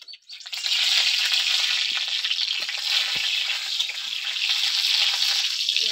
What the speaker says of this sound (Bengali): লঙ্কাটা একটু লাল করে ভেজে নিয়েছি